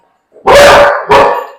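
A dog gives two loud, close barks in quick succession, the second slightly shorter, with silence before them.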